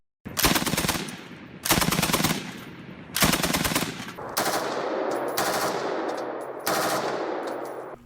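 An M60 7.62mm machine gun fires in six loud, sustained automatic bursts of rapid percussive shots, each a second or so long with short gaps, close and powerful, echoing slightly, without talking.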